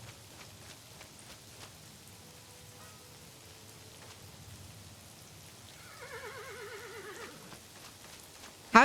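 A horse whinnies once, a wavering neigh rising out of soft pattering rain, with a brief thump right at the end.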